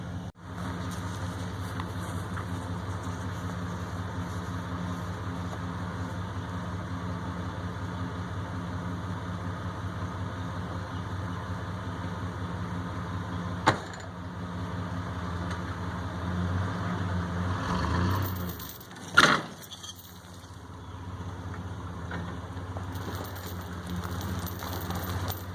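Pickup truck jolting slowly across rough orchard ground, a steady low engine drone with rattles throughout and a couple of sharp knocks and a louder bump near the end.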